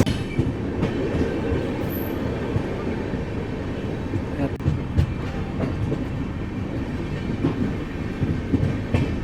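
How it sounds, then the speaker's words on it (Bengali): Howrah Ahmedabad SF Express with LHB coaches running along the line, heard from inside as a loud continuous rumble with rhythmic clickety-clack wheel beats and occasional sharp rail knocks. "প্রায় রাইট টাইমে ট্রেনটা যাচ্ছে"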